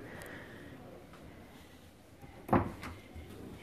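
A drawer in a spacious room at the Hyatt Ziva Cancun resort shuts with a single soft wooden thump against quiet room ambience.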